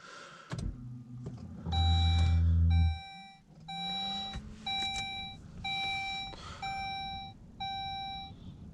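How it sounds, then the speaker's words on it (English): Power windows in a car running up and down repeatedly after a fix for sticking, heard as evenly spaced whirring motor runs of about half a second each, with a loud beeping tone in the background. "listen to the windows now"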